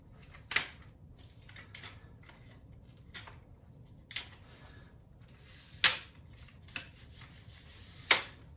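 Locking clamps on the legs of a budget Focus Onn tripod from Walmart snap shut one after another, a series of sharp plastic clicks and rubbing sounds at irregular intervals, close and fairly quiet with no talking.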